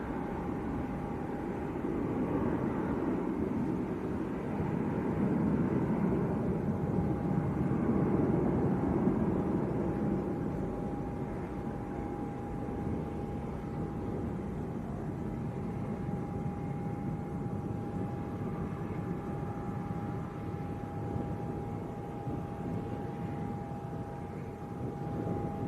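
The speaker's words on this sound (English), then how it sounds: "That was Ryanair to Dublin." Broad, steady jet roar of a Ryanair airliner departing Leeds Bradford Airport for Dublin, swelling slightly then holding constant with a faint sustained whine, heard from a distance with no talk.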